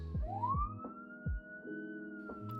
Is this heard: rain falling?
no